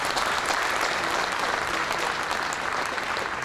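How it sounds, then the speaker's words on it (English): Audience applause at a peace convention keynote in Kenya, a dense steady wash of clapping from a large crowd, loud and continuous for a few seconds. "Could we give them a round of applause?"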